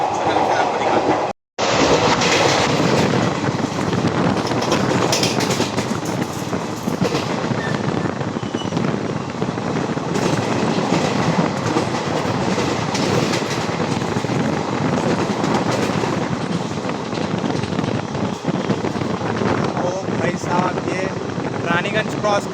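Indian Railways train 13043 Howrah–Raxaul running at high speed near Raniganj, a loud continuous roar of wheels and rushing air with rapid rail clatter, nearly unbroken throughout.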